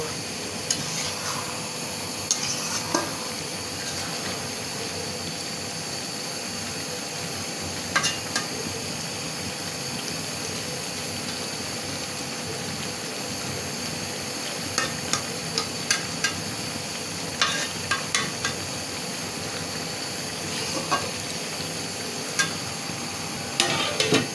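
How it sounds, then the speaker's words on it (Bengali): A mixed-fish and taro-stem curry is stirred in a pot, with scattered spoon scrapes and light clinks over a steady low simmer and sizzle that runs the whole time, fairly quiet and with no talk. "তরকারিটা উতলাই গেছে, এখন আমি একটা লাড়া দিয়ে ঢেকে দেব"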